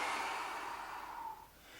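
Forceful exhalation during an abdominal crunch exercise, a steady breathy rush of air lasting over a second before trailing off, close and alone.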